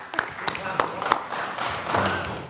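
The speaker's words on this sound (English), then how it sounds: "round of applause for the clerk" A short round of applause at a city council meeting for the clerk, scattered claps and thumps from a small group in a room, uneven and brief, with talk around it.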